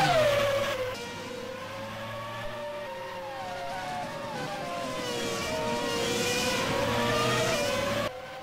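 Formula race car accelerating hard on the Melbourne circuit in a racing video game, a loud, continuous high-pitched engine whine that climbs through the gears and stays close and dominant throughout.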